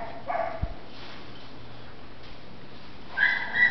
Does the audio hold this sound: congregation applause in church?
no